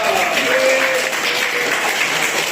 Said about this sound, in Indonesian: Nah, tepuk dong.